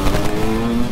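KTM 200 XCW enduro motorcycle braking on its rear tire, a steady close engine drone with a rising tonal whine, continuous for under a second.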